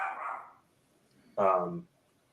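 A dog nearby gives two sharp barks separated by a short pause, the second one louder and more tonal.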